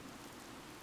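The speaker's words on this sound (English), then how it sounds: "Oddly, the rain has come to fall yet again" Rain falls in the video game Fire Emblem Three Houses as a brief, even wash of soft hissing noise with no distinct drops or voices.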